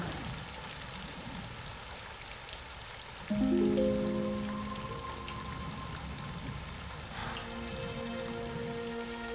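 Steady rain falls throughout a scene in a 2006 Hindi film, a constant hiss of drops on surfaces, with sustained musical tones entering partway through and continuing under it.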